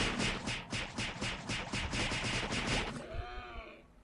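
Rapid, regular bursts of sniper auto-attack shots from Ragnarok Online, a steady rattling volley of gunfire-like hits for about three seconds before giving way to fainter tonal game effects.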